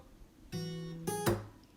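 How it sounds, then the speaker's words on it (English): Acoustic guitar strings ring, then a second strum, and a quick percussive slap on the guitar body cuts in sharply near the end, close up. "just like that, a quick slap."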